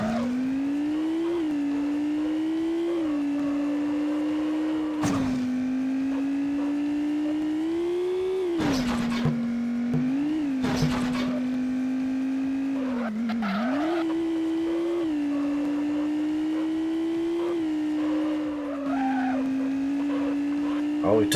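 TVR police car in the racing game Test Drive 6, its engine holding a loud steady drone with pitch rising and dipping through gear changes, broken by brief bursts of tire squeal and impact noise.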